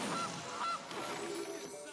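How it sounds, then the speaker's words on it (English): Goose honk from the digital card game Magic: The Gathering Arena, two short nasal honks close together near the start, followed by a faint game-effect tail. "And we will cast the Goose."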